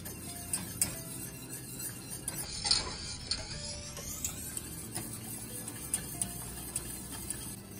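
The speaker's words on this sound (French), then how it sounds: "on va incorporer au fouet en tournant tout le temps, en incorporant du beurre vraiment très froid" A whisk stirs very cold butter into a sauce kept at medium heat near the boil, with steady soft scraping and light metallic clicks against the pan, close and quiet throughout.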